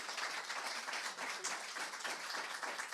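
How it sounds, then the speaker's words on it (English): Seminar audience applause, a steady and fairly soft patter of many hands clapping together for a few seconds, with no voices on top. "let's hear one final round of applause for Arantxa and Nico"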